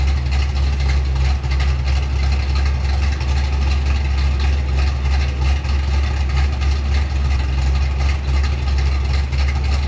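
A 1965 Chevrolet C10 truck engine idles steadily with a freshly fitted Edelbrock carburetor, a loud, constant low rumble that runs unbroken throughout, with no talking over it.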